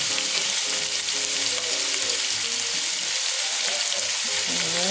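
Ingredients for macaroni soup, seasoned with salt and pepper, sizzle and crackle steadily in a hot pan, loud and close with faint stirring scrapes throughout and no talking.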